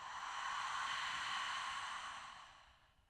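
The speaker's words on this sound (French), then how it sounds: "Expire par ta bouche." A long, soft breath pushed out through the mouth during a morning yoga breathing exercise, one faint airy exhale that swells and then fades out alone.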